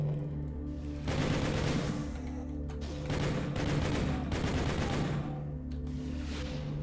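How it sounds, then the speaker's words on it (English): Rapid bursts of gunfire from a first-person shooter, Doom with the RAMP mod, come in dense repeated volleys over a steady low game hum, loud and close, with brief lulls between bursts. "Until I shoot at him, maybe."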